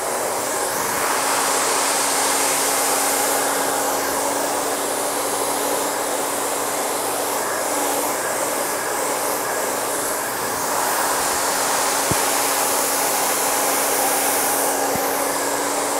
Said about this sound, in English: Hold your blow dryer on a 45 degree angle.